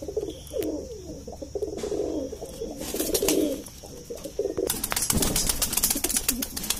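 Red-eyed Indian high-flying pigeons coo in low, repeated throaty rolls close by, with sharp clicks and rustling noise toward the end.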